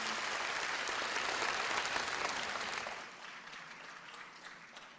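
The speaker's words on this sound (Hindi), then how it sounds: "उनके लिए भी भरपूर तालियां अगर आप करेंगे तो बहुत मेहरबानी" Sustained applause from a crowd at a Pakistan Independence Day ceremony claps steadily, then thins and quiets toward the end.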